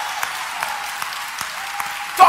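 An audience claps steadily in a hall, a dense, even patter of applause that continues throughout at a moderate level.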